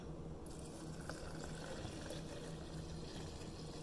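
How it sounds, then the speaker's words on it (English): Water poured from a tap into a blender jar holding oats, filled up to the one-liter mark; a steady, close rushing and trickling fill runs throughout without pause. "Then you're going to fill it to the liter mark with water."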